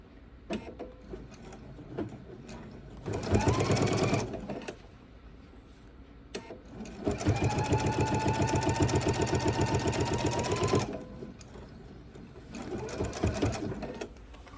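A sewing machine stitches a fabric bowl cozy in three bursts: a short run, a long steady run, then another short one, with quiet pauses between.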